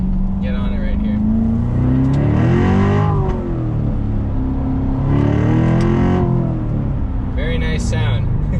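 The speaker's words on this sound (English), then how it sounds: "we'll accelerate, and you can hear what the exhaust sounds like with the window closed." C7 Corvette with a catless X-pipe exhaust accelerating from inside the cabin, the engine note rising through two strong pulls with a gear change between, loud and raspy, with someone speaking briefly at the start and end.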